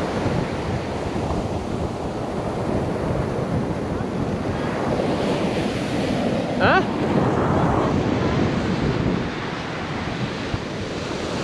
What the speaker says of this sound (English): Tide's coming in as well.